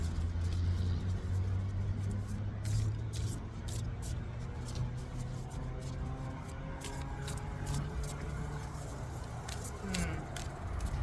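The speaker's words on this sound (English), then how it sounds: "Sorry if you guys hear the cars" Steady low rumble of road traffic nearby, cars passing continuously with a constant hum and occasional faint clicks.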